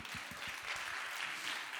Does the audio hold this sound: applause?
yes